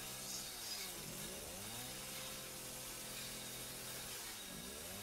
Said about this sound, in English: This will break the chainsaw.